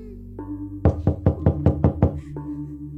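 Seven firm knocks rap on a house door in a steady, evenly spaced run, close and clear over a low sustained musical drone.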